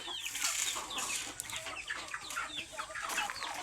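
Pet chickens cluck busily while being fed, several birds close by with overlapping short calls and chattering clucks throughout.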